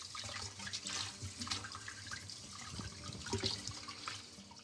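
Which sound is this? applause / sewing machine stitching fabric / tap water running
tap water running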